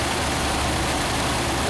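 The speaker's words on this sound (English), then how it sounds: "it's certainly running absolutely beautifully. Right, here's the other side of the engine. Probably idling slightly too high" A 1934 Packard Eight engine idles a little high, giving a steady, close, loud low rumble with an even, unbroken running tone.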